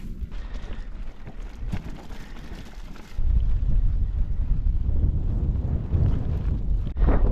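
Strong mountain headwind buffets the microphone while cycling a mountain bike up The Gap in the Brecon Beacons, a steady roar that swells sharply louder about halfway through and stays heavy, with no voices.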